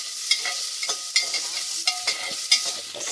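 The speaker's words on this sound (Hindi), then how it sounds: "दाल में तड़का लगा के बना रही हूँ" Dal tempering (tadka) sizzles and fries in a pan while being stirred, a steady loud hiss broken by sharp clinks of the spoon against the pan at irregular intervals, with no talk.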